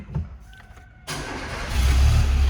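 A Peugeot 16V car engine with a fuel-injection warning fault cranks briefly with a whirring starter, then catches and settles into a steady close idle with a low rumble.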